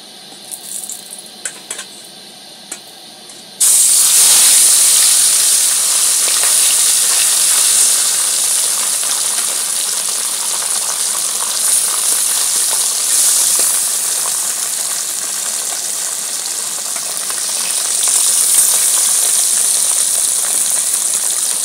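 Gule fish drop into hot oil in a pan and set off a sudden loud, steady sizzle that hisses continuously for many seconds after a quieter lead-in, swelling slightly near the end.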